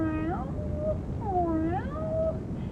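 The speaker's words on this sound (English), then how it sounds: "It's only me, the old grey cat." A cat gives a few drawn-out, wavering meows in quick succession, close and clear over a low background hum.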